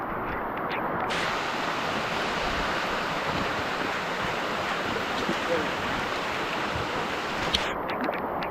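River water rushing steadily through El Yunque rainforest in Puerto Rico, a dense continuous broadband roar close by that fills the whole stretch with no pauses.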